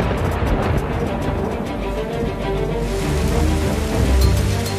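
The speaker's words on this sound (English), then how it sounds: "Guys, it's raining." Heavy rain pours down outdoors at an open-air cooking competition, a loud, continuous wash of drumming drops with a deep rumbling undertone that swells toward the end.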